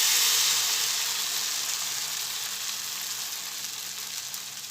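Chokha dosa batter sizzles loudly on a hot pan, a steady close hiss that stays strong throughout and eases off slightly toward the end, with no talking.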